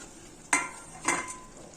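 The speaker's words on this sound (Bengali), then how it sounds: "আমার ঝোল ফুটে উঠেছে। এখন ভেজে রাখা মাছগুলো দিয়ে দিব।" Fried fish for a piyali fish curry goes into a boiling gravy, two sharp splashy clatters about half a second apart, each followed by brief sizzling and bubbling, close and without speech.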